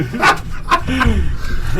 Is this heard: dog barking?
yes